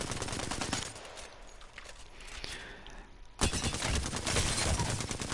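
Automatic weapon fire in the Apex Legends firing range: dense rapid bursts at the start, a quieter lull with faint activity, then a loud sustained stretch of continuous shooting through the end.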